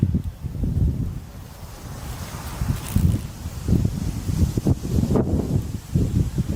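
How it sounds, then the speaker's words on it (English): Strong wind buffets the microphone outdoors at night at a campsite, a steady low roar broken by repeated heavier gusts with light rustling. "that wind is really picking up tonight"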